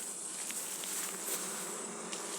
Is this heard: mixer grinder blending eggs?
no